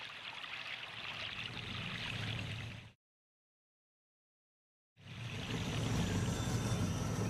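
A narrow creek flows past fallen trees in the wild, a steady close rush of running water that cuts out to silence for about two seconds, then resumes just as full.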